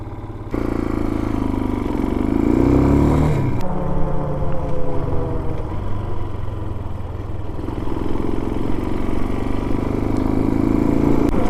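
A motorcycle on the move gives a steady, loud engine drone mixed with rumbling wind buffeting; the pitch sags and climbs around a gear change partway through, with no talking.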